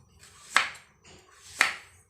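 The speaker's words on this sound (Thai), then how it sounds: "หั่นหัวไชเท่ากันครับ" A knife slices through daikon radish into rounds for a spicy Thai pork bone soup, two crisp chops about a second apart, each a sharp crunch against the board with a brief fading tail, close and fairly quiet.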